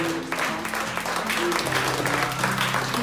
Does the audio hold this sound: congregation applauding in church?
yes